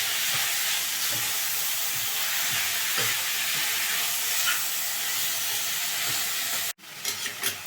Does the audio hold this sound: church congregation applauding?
no